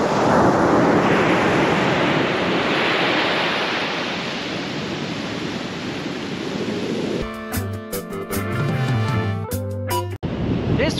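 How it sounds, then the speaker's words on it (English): Strong wind buffeting the microphone with ocean surf rolling behind it at Oxnard beach, a loud continuous roar that later gives way to music. "And there is some crazy wind today."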